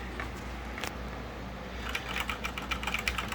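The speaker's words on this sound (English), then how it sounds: "I'm just typing gobbledygook on purpose, no words, but just to prove that it's getting the keyboard input." Computer keyboard typing of random keys, starting with a few scattered clicks and then a fast, dense run of close, crisp keystrokes, with no speech.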